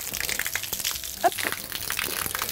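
Water rinsing shampoo from a horse's mane, an uneven splashing and trickling gush with wet squelches, close by, with a voice talking briefly over it.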